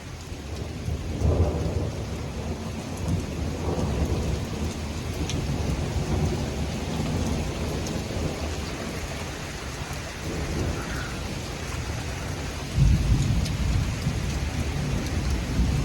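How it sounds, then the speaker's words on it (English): A severe supercell thunderstorm with heavy rain pouring steadily, interrupted by several deep rumbles of thunder and one sharp, louder crack near the end, heard from within a vehicle. "The rain's probably going to get a little heavier before we escape the storm."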